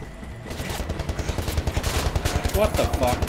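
Turret machine gun fire in Wolfenstein: The New Order, starting after a short lull and building into a steady, rapid stream of loud, evenly spaced shots, with a voice faintly underneath.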